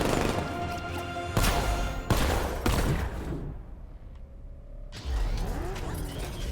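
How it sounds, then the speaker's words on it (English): The Batmobile in tank mode in Batman: Arkham Knight fires a rapid series of missiles, loud sharp blasts broken by brief mechanical whirs and a quieter stretch before a final burst. "They just got shot by missiles."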